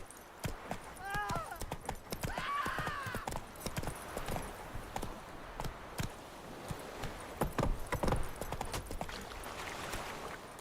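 Roach the horse in The Witcher 3 trots and gallops with repeated hoof clip-clops on the ground, a brief whinny early on, and someone talking over the hoofbeats.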